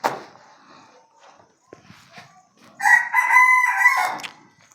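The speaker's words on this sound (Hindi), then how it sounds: "मुर्गे की आवाज़ आपको सुनाई दे रही होगी" A rooster crows once, loud and close, a long drawn-out call rising then holding, after a few seconds of faint scattered background noise.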